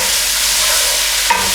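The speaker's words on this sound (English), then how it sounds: "So we're just going to gently fry these onions until they become soft." Diced onions frying gently in melted butter and olive oil, a loud, even, close sizzle with a brief clink near the end and no talking.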